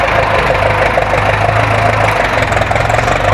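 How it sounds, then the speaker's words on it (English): A New Holland Ford tractor engine idles steadily and loudly nearby, a constant low mechanical rumble with a slight knocking pulse and no voices. "So he's got the New Holland Ford tractor."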